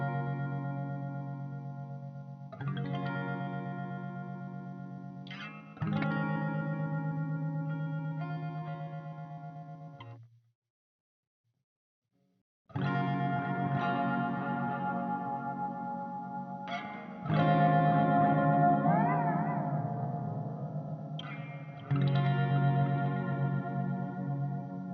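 Electric guitar through a pedalboard with chorus, overdrive and delay, strummed chords ringing out with shimmering modulation and echo tails, a brief silence midway, then more sustained chords with a wavering bend, loud and alone.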